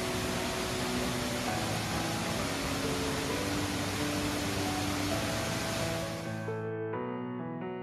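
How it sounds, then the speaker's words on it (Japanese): Bōzugataki Falls, a waterfall in Sawara Ward of Fukuoka, gives a steady, dense roar of rushing water under faint background music, then cuts off abruptly so that only the music is left. "坊主ヶ滝、"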